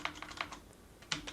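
Computer keyboard typing while entering a client name for remote connection: a short burst of several quick, light key clicks at close range, with a louder pair of strokes near the end and no talking.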